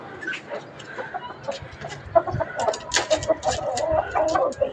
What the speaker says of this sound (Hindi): तो चलो मैं मुर्गियों को खोलती हूँ